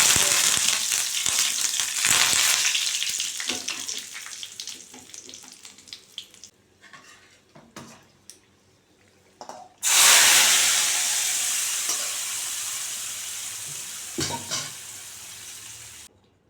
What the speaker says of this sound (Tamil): அடுப்பை மீடியம் ஃப்ளேமில் வச்சு வறுத்துக்கோங்க